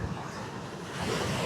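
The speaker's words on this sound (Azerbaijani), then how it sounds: "Çox iri dalğalar var, yəni dəhşət." Large ocean waves crash and wash onto the rocky shore of Madeira, a steady broadband roar of surf with wind that swells louder toward the end, close and without voices.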